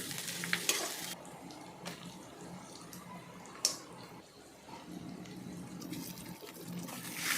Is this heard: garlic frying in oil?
yes